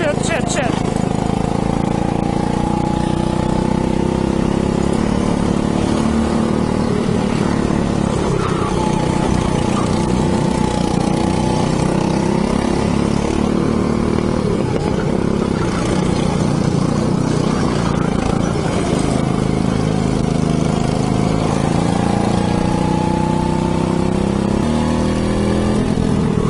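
Go-kart engines racing on a track drone and rev steadily throughout, a dense continuous buzz heard from close by, with a person talking over the engine noise.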